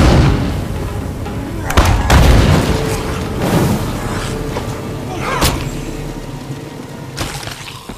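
Gunfire in State of Decay 2, several sharp shots cracking out at intervals over a steady background of game ambience and scattered thuds.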